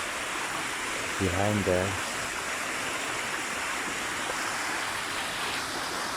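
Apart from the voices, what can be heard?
small waterfall by a cave beside Tumpak Sewu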